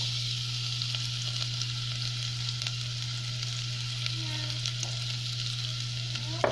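Garlic fries in a little cooking oil, a steady close sizzle with a low hum underneath and faint scraping clicks from stirring.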